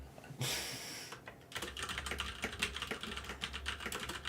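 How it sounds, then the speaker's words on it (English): Fingers type on a computer keyboard, with a loud burst of keystrokes, a brief pause, then a rapid continuous stream of close clicking and tapping. "I've got to go away and do some typing"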